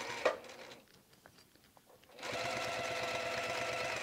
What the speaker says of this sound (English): just go nice and slow and stitch about 1/2 inch in